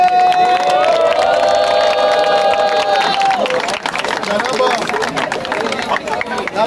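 A rap battle crowd roars, cheers and shouts loudly and continuously at a street battle event, with a sustained tone ringing over the noise early on before dissolving into dense hubbub.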